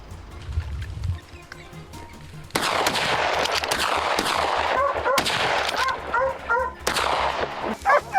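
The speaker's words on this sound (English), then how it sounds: "As soon as they entered our line of fire, we pulled the trigger." Hunters fire repeated gunshots at wild boars in open terrain, with sharp cracks and bursts that come in quick volleys and stay fairly loud, along with faint dog barks.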